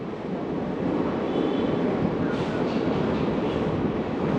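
Simhadri Express carriage rumbling steadily as the train gathers speed, a dense continuous roar of wheels on rails with faint rhythmic clatter, heard from inside, no voices.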